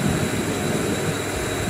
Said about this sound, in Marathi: मग आम्ही असं दादर स्टेशनला आलो। ही आमची ट्रेन।